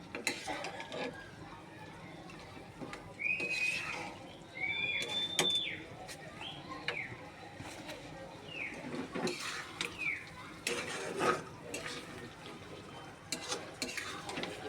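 Mutton with chana dal and spices being stirred in a pot: soft intermittent scrapes and clinks of a spoon against metal, with birds chirping faintly in the background and occasional quiet voices.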